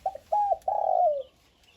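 A dove coos three times in a low, hollow sequence, the last note drawn out and falling, close and fairly quiet; a wild-caught mountain dove.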